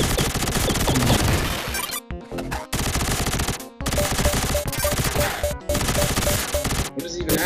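Nonstop blaster fire from the Vector Man video game rattles in dense, rapid bursts over game music, with a few brief gaps between volleys.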